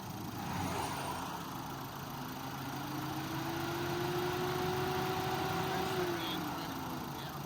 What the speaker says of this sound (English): Why is it revving like that?